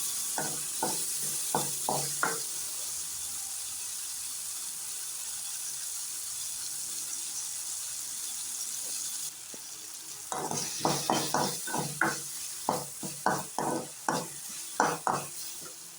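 Horse gram being stirred and dry-roasted in a pan, with a steady background hiss and bursts of quick rhythmic scraping strokes, one short run at the start and a longer run near the end.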